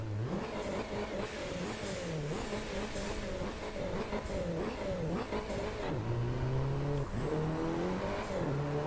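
An Audi, Bac or Bentley engine in the racing game Driveclub revs up and down repeatedly in rising and falling sweeps, loud and close, with the pitch climbing through gears and no talking.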